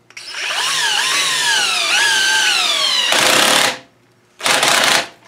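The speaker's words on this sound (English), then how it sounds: "Right there you hear the drill slip over." Cordless power drill in low gear driving a threaded insert tool, a strained high-pitched whine with falling harmonics for about three seconds, then two loud broadband bursts as the clutch slips and ratchets over, near and alone.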